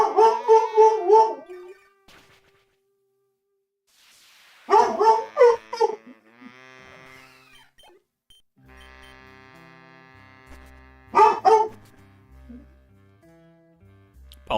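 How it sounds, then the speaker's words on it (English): A dog gives a few howling, bark-like calls in separate bursts, near and fairly loud, with long quiet gaps and faint game music in between. "Apologies for the barking."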